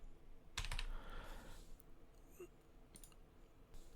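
Keys clatter on a computer keyboard while working in AutoCAD, a few quick faint taps with a short burst near the start, quiet and close.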